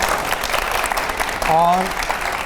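Applause from an audience at a public event, a steady wash of clapping heard under a speaker's voice, with a brief spoken word near the end.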